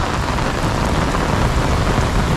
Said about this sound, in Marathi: एकदम तुफान पाऊस हे बघा